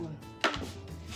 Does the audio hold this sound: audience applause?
no